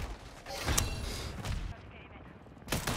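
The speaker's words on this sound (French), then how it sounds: "I hear grenade after grenade" Video game combat with grenades going off, sharp bursts of explosions and gunfire at moderate distance, separated by short gaps, with a louder blast near the end.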